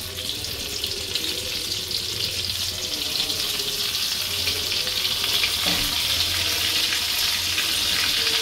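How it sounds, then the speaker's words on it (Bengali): Golden prawns deep frying in hot oil, a steady dense bubbling sizzle that holds loud and close throughout with no talk. "এবার আমি একে একে করে এটা ফ্রাই হতে দেব।"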